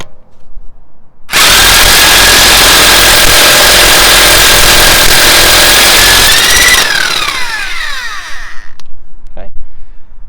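Chicago Electric 120v corded impact wrench removing car lug nuts, starting abruptly into a loud, sustained hammering whine for several seconds, then spinning down with a falling pitch and a short final burst, with some talk.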